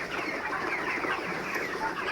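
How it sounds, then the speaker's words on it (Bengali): 31-day-old chickens on a poultry farm cluck continuously in a dense flock while feeding in the morning, a steady busy chatter of many birds close by with no pauses. "সকালবেলা মুরগির খাবার চলতেছে এখন।"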